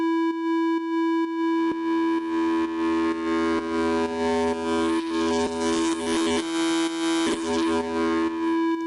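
High laser-style bass from an Ableton Operator synth, with oscillator B frequency-modulating oscillator A: a loud, sustained buzzy tone with rising bright overtones and steady rhythmic pulses, growing harsher toward the end.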